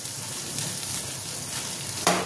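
Spice paste with chui jhal sautés for mutton kosha, a steady close-up sizzle and hiss that runs without pause, with a brief clink of stirring near the end.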